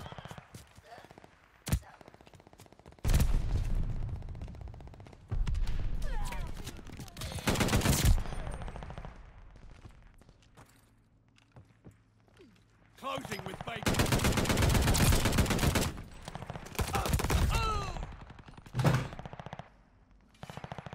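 Gunfire in a chaotic shooter video game, with several long, loud bursts of rapid automatic fire separated by quieter gaps, plus a single sharp shot early on and brief speech between the volleys.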